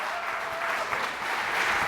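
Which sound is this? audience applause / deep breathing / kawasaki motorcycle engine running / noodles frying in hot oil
audience applause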